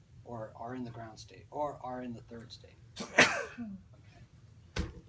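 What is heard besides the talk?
sneeze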